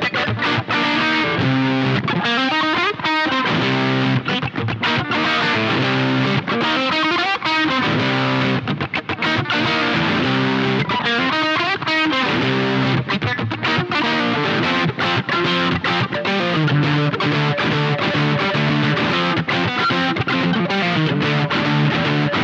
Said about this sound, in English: So you start to hear how the amp starts to break up.